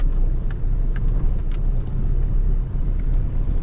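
A car driving slowly around an animal sacrifice site in Mecca, with a steady low engine and road rumble inside the cabin, continuous and fairly loud, broken by a few faint clicks.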